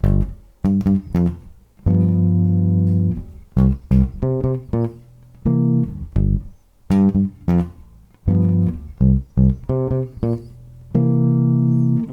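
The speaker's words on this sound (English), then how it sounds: "I could play the whole chord, which would sound like this." A full chord rings out repeatedly on a guitar, with sustained tones, short staccato stabs and brief pauses in a funky rhythm, close and clear with no talking.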